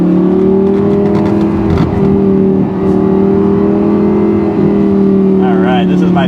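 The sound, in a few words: Lamborghini titanium exhaust accelerating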